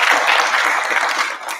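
A school assembly crowd claps for house points, a brief burst of dense, even applause from many hands, loud and close, tapering a little near the end with no voices over it.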